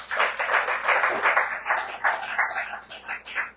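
A church audience claps together in rhythmic bursts of quick, crisp claps that swell and ease for a few seconds, with no talk over them.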